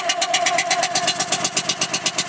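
A small machine engine with log lift controls runs steadily on choke while warming up, a fast, even pulsing idle heard close and alone.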